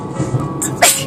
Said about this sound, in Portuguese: E eu espirro.